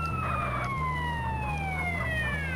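Ambulance siren from GTA San Andreas, a steady wailing tone sliding slowly downward with harmonics, looping continuously over a low engine drone throughout, with no talking.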